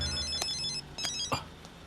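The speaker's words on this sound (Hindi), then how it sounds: "सर कमिश्नर साहब का फोन है।" A telephone rings in a tense Hindi film scene about checking a car for a bomb, a bright electronic ringtone repeating in quick pulses over a busy background bed, with no voices over it.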